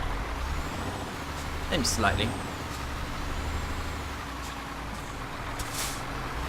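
A heavy truck in Euro Truck Simulator 2 rolls steadily at moderate distance with a brief hiss of air brakes, while a person talks over the engine noise.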